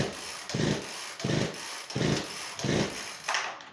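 A Poulan P3816 chainsaw on quarter choke is pull-started about five times without catching. Each rhythmic rope yank gives a short burst of cranking engine noise, spaced roughly every half second, close by.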